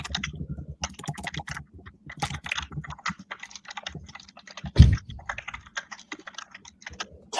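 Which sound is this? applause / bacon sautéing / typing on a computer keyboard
typing on a computer keyboard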